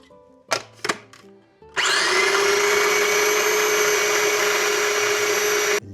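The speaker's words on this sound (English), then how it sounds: "I take it and I grind it up real fine for the filling" Electric grinder processing cooked meat finely for manicotti filling: a few short clunks, then the motor starts and runs at a loud, steady whir for about four seconds before cutting off.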